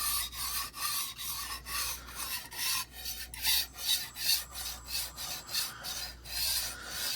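A steel knife blade is drawn repeatedly across a Nano Hone diamond sharpening plate, giving a steady, close, gritty rasp in rhythmic back-and-forth strokes with no voices.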